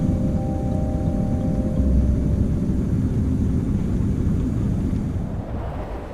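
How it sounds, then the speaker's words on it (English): Steady low roar of an airliner departing Don Mueang International Airport, a continuous rumbling engine drone that holds level and fades slightly at the end, with no voices. "At 2:30 p.m., only slightly behind schedule, Flight 269 departs from Don Mueang International Airport."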